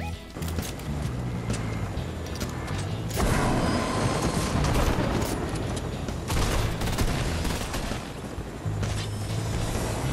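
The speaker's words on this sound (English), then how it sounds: "someone's shooting at me" Gunfire in the video game Fortnite, heard as dense, continuous bursts of rapid shots that stay loud for the whole stretch, swelling in the middle, with a low rumble underneath.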